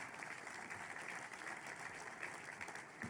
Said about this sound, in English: Let's clap on that as well